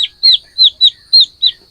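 Turkeys raised for fighting call from their pen in five short, sharp, high-pitched chirps, close and clear, with no talk.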